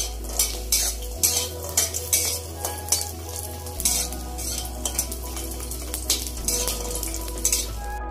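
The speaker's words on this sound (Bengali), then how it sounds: "বড়িগুলো লাল লাল করে ভেজে নিতে হবে।" Lentil dumplings (bori) crackle and sizzle in hot oil in a kadai, with repeated scrapes and clinks of a spatula stirring close by, a steady electrical hum running underneath.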